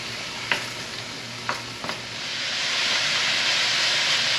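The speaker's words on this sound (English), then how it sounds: "Everything's in here frying down really nicely." Onions fry in a pot for a wild hog stew, giving a steady sizzling hiss that swells louder midway, with a few light stirring clinks near the start and no talking.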